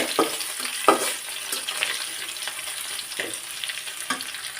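Chopped onion and garlic fry in a pan for a hotel-style cauliflower stir-fry, giving a steady close sizzle broken by several sharp scraping stir strokes, with no talk.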